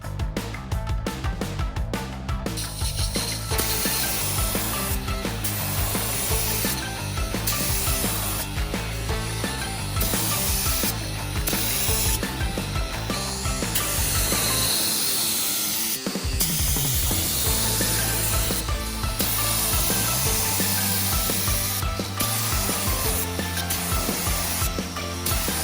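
Epoxy primer sprays onto the bare metal body of a Toyota Supra Turbo being rebuilt, a loud continuous hiss that pulses with each pass of the spray gun, with mechanical clicks and clatter underneath.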